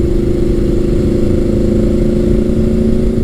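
A Honda VFR800 motorcycle with a Staintune exhaust and performance upgrades runs loud and close, holding a steady, buzzing engine drone throughout.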